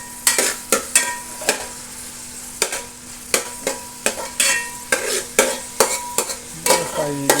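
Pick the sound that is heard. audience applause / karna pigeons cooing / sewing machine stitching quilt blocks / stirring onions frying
stirring onions frying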